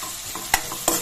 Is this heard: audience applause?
no